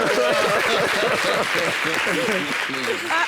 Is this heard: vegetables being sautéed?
no